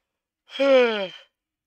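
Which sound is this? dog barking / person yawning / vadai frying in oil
person yawning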